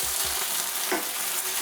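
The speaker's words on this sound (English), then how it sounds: "I'm going to have a go at scraping up some of this tofu." Tofu sizzles and fries in a steel pan as a utensil scrapes it, giving a steady frying hiss with short scraping strokes.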